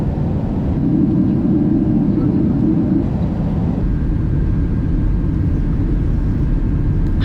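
A steady, loud low drone fills the whole stretch, engines heard from inside an airliner cabin on a flight to Singapore, with a dull rumble and faint murmur beneath.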